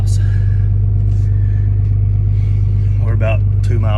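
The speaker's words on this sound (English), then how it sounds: "I'm towing Dad in the old feed truck to the house." Old feed truck driving down a rural road while towing another truck with no brakes or power steering; a steady low engine drone and road rumble runs throughout, with a voice talking over it near the end.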